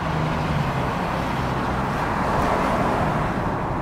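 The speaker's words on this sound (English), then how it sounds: "highway driving with the top down in traffic" A Bentley Continental GT Convertible cruising down a highway in traffic with its top down, a loud, steady rush of wind and road noise with engine hum underneath, continuous and unbroken.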